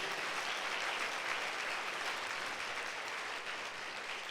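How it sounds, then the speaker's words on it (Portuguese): A church congregation at a Sunday service gives a sustained round of applause, broad, even and steady throughout, with no voices standing out. "Então dê uma salva de palmas a Deus."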